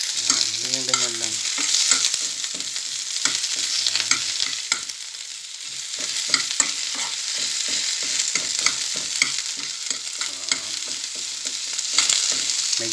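Onion sautéing in a pan for ginisang sayote gives a constant frying sizzle under rapid, repeated scraping and tapping of a spatula, close and steady throughout.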